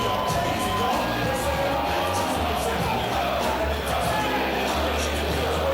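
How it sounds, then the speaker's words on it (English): Wrestling crowd at an FWA show roars as Jody Fleisch heads to the ring, a sustained, fairly distant wall of cheering and whoops with no lull. "The Phoenix Jody Fleisch makes his way to the ring to a loud roar from the crowd"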